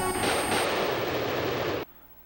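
A Dragon Cannon fires in the video game Lunar 2: Eternal Blue, a loud, sustained roaring blast of dense noise that holds steady for nearly two seconds before cutting off abruptly, with no voices over it.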